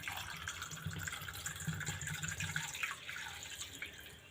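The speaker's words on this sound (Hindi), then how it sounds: "पानी डालेंगे।" Water being poured into a glass with ice cubes for a Ramzan almond sharbat, a soft continuous trickling pour lasting a few seconds, quiet and close.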